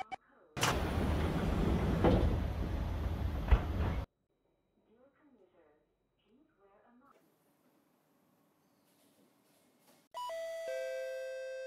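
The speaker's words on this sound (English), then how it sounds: "Doors are closing." A door-closing chime plays on a C151 MRT train near the end, after a loud burst of rushing noise and a long, nearly silent stretch with faint movement.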